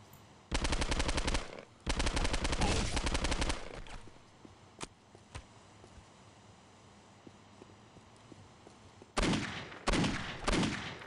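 Machine gun fire from the video game Postal 2, loud sustained bursts of rapid automatic shots, a long burst, a pause with a couple of single shots, then two more bursts near the end, no talking.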